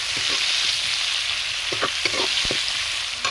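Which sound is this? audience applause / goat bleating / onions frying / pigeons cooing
onions frying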